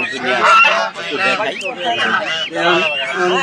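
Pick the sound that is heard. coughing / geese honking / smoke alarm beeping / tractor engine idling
geese honking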